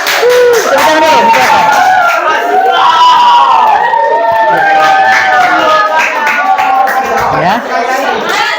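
A classroom of students applauds and cheers loudly during a math lesson, with clapping mixed with excited voices, shouts and chatter throughout.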